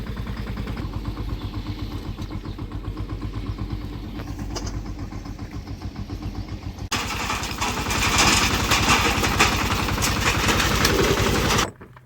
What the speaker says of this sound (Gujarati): પાછું ભરાઈ ગયું ટ્રેક્ટર હવે જાય પાછા નાખવા